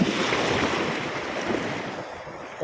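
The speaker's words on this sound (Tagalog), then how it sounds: "Lakas pa mo din ng alon." Strong surf pounds a beach in a steady, loud wash of breaking waves, with wind buffeting the microphone throughout and no voices.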